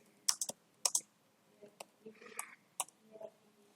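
A computer keyboard clatters with scattered, uneven keystroke clicks while code is being typed. The taps are close and fairly quiet, come in short clusters with gaps, and a soft murmur sits faintly underneath.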